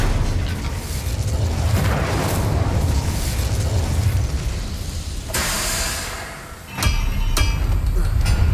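A fire spell cast in the Hogwarts Legacy video game bursts out as a sustained loud roaring whoosh, cutting off briefly, then a sharp flare and crackling bursts follow.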